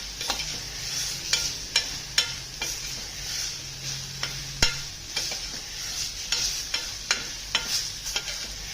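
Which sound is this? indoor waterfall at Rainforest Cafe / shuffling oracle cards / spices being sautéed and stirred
spices being sautéed and stirred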